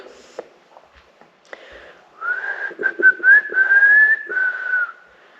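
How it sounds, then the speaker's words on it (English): A person whistles a sustained, wavering tune that rises and falls for a few seconds, preceded by faint footsteps and rustling. "You can whistle."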